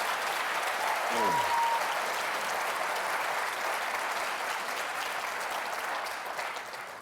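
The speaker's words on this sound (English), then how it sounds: "I think this is one time when we ought to just give them both a real round of applause." Sustained applause from an audience at a Virginia Attorney General debate, a dense, steady wash of clapping that stays loud and even across the whole clip before easing slightly at the end.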